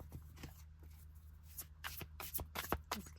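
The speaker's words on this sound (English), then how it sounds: "Okay, sorry, I need to shuffle one more time." A deck of tarot cards being shuffled by hand, a run of papery riffles and flicks that begins sparse and grows busier and louder toward the end, close by with no talking.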